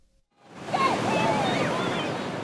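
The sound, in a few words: ocean waves breaking on Tasmanian beach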